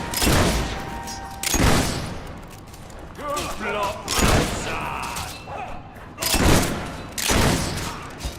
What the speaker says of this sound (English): We're under fire.